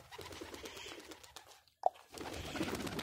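High flyer pigeons give a soft coo near a rooftop loft on a hazy day, one brief call standing out against faint outdoor background noise.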